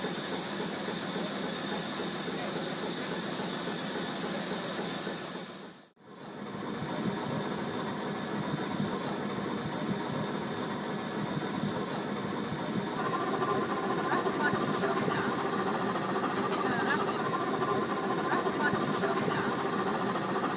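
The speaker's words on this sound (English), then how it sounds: "The steam boiler is fired with blazer logs, these commercially produced logs being made from compressed sawdust." The steam engine of the Coniston steam gondola, its boiler fired with compressed-sawdust logs, hisses in a steady broad wash on Coniston Water, briefly cutting out for a moment before resuming.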